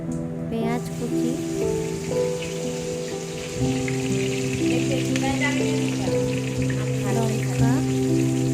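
Chopped onion with whole cumin sizzling in hot white oil in a kadai, a steady bright crackle and hiss running throughout over a low hum.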